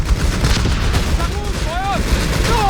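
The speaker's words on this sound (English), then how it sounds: "Bloody machine gun!" Machine-gun fire in a 4v4 Company of Heroes 3 battle: a dense, continuous rattle of gunfire with low booms, plus thin whistling sweeps through the second half.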